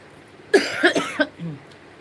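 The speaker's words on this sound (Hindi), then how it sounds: "खांसी बहुत ज्यादा आने लगता है" Three quick, harsh coughs from one person up close, evenly spaced, followed by a softer throaty sound, all in a quiet room.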